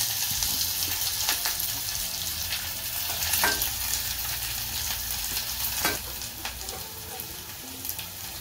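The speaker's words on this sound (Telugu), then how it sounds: "పోపు దినుసులు వేగిన తర్వాత ఉల్లిపాయ, పచ్చిమిరపకాయ, కరివేపాకు తరిగి పెట్టుకున్నాం కదా" Chopped onion, green chili and curry leaves sizzle steadily in hot tempering oil with mustard seeds and spices, with a few stirring scrapes over the constant frying hiss and no voices.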